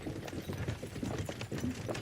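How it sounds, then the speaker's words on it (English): Horse hooves clip-clop at a steady walking pace in the medieval game Kingdom Come: Deliverance II, a close, even rhythm of hard knocks from several horses with no voices. "don't you think maybe we could make the horses go a little faster?"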